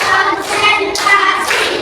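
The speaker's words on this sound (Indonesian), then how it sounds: "tepuk satu, tepuk satu, tepuk dua, tepuk tiga, tepuk empat" Children clap in a classroom counting clap game, a few quick bursts of claps in rhythmic groups, close and fairly loud, with faint voices in the background.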